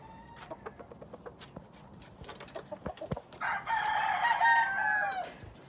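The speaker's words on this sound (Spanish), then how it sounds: "Y este es diferente gallo." A clarete gamecock rooster crows once, a loud, drawn-out call of about two seconds, following a stretch of sharp clucks and clicking sounds nearby.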